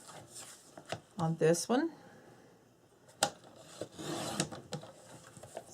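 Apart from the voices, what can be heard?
cutting chipboard into strips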